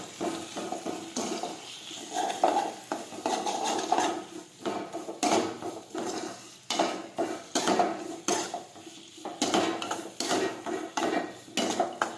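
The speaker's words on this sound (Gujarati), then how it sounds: "હવે આપણે સાતળી લઈશું." Spiny gourd curry stirred in a pan with a utensil, giving repeated close scraping and clinking knocks in an irregular rhythm, with no talking.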